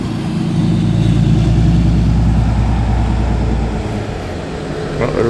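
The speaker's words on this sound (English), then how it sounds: "Oh, that's a big old truck." A big truck rumbles past on a road, a loud low engine drone building close by and then fading after a few seconds, with other traffic around.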